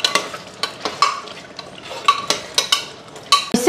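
Meat frying in a pan during home cooking, with repeated sharp scraping stirs over a steady sizzle and clinks of a utensil against the pan, close and fairly loud.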